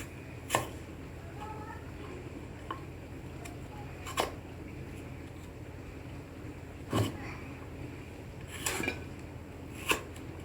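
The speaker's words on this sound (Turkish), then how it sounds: "Patateslerimizi bu şekilde doğruyoruz." A kitchen knife chops potatoes on a cutting board for potato salad: about five sharp, separate chops spread out over ten seconds, each close and crisp against a quiet room.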